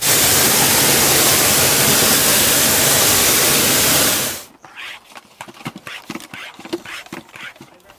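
A pressure-washer spray hisses loud and steady against the wheel of a VW Transporter T5 Caravelle for about four seconds, then cuts off, leaving faint drips and light knocks.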